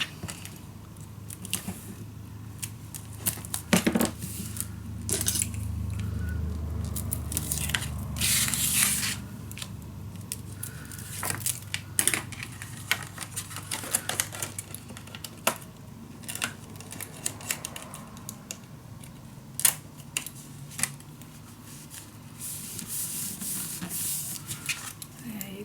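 Adhesive tape torn from a roll and pressed down while building a mini album in a storage box, with repeated sharp rips and rubbing crackles, close up, scattered in bursts over a steady background.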